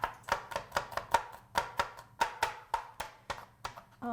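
A kitchen knife minces three garlic cloves on a cutting board with a steady run of about a dozen sharp, close chops, alone and evenly spaced.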